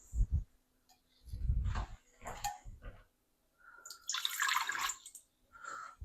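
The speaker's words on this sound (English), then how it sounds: "Next thing we're going to do is get our pressure cooker going. And what we need to do here is drop in some water." Water poured into a pressure cooker, splashing and gurgling in several uneven bursts with short pauses between them, close and fairly clear.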